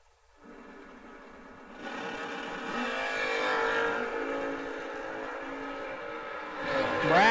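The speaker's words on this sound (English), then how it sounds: "There's 3 Chevelle wagons on the property, and these guys have managed to race each other twice now." Chevelle wagons drag racing at a memorial race: engines rumble at the line, then build into a loud, rising roar as the cars launch and accelerate away, with a second surge near the end.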